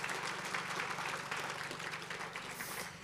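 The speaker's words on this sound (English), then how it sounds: "please can we just give a round of applause to the guys behind the scenes" A crowd at a polocrosse tournament applauds steadily, a dense wash of clapping heard from a distance at modest volume, with no talking.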